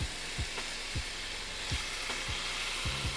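Shaved ribeye steak sizzles steadily in a hot pan, a dense continuous hiss broken by several soft scraping stirs, close and alone without voices.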